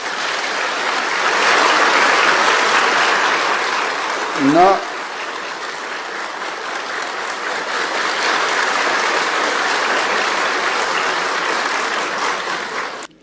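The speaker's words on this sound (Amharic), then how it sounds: "ከምክር ቤት አባላት ረጅም ጭብጨባ ተችሯቸዋል" Members of parliament applaud at length in a chamber, a dense continuous wash of clapping that holds steady for the whole stretch, with a brief voice surfacing near the middle.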